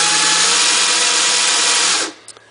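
A hand-operated chamfer tool cuts the inside of a brass cartridge case mouth during ammunition reloading, giving a steady, loud broadband whirring grind for about two seconds that stops abruptly, followed by a couple of faint clicks.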